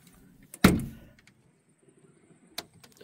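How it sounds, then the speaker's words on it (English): A garage door is shut at a campsite, one sharp loud thud with a rattling decay, followed by a smaller knock a couple of seconds later in a quiet outdoor setting. "That's the garage door shut."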